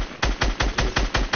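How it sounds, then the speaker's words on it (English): Gunfire in a video game shootout: about seven evenly spaced, punchy shots in a steady burst with no talking over them. "They're shooting at me."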